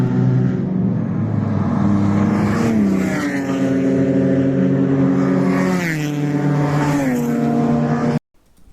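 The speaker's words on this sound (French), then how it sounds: "vous voyez passer la Golf, pour faire un départ lancé" A Volkswagen Golf race car passes on the track before the rolling start of an 8-hour endurance race, its engine a loud sustained drone that shifts pitch as it goes by, then cuts off abruptly.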